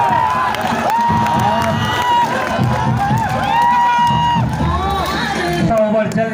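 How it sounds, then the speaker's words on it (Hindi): A crowd at a local tennis-ball cricket match claps and cheers for a batsman, a loud, continuous mix of applause, whoops and children's shouts with voices calling out over it. "पूरी पब्लिक तालियां बजाती हुई प्रीतम के लिए"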